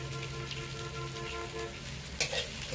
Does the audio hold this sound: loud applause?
no